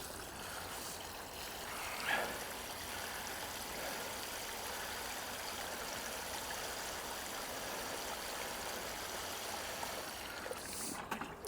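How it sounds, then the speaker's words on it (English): Water pours steadily into a container packed with stinking weeds, a continuous gushing, trickling rush heard close up for several seconds without voices. "We're just going to top that up with water so it's all covered."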